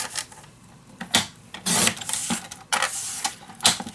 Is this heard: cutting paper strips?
yes